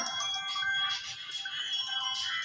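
A mobile phone ringtone plays continuously during a security guard fire-safety training session, a bright repeating electronic melody at steady volume with no one talking.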